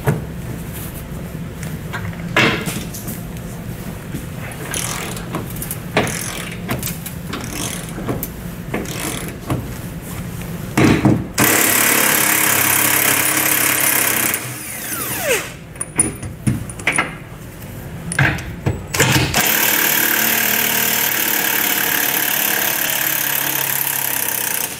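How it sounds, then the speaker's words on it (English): Bursts of a power tool whir and rattle in short runs while removing bolts during a trailer hitch installation on a 2020 Ford Ranger, separated by clanks and handling noises, then longer sustained spells of tool noise. "I'll come back with my tool and my power tool and pull them out"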